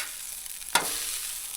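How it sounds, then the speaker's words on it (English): A bun and a tortilla toast in a pan on a camp stove, a soft steady sizzle broken by one brief sharp scrape or clatter near the middle. "Toast up the bun there. Toast up the tortilla."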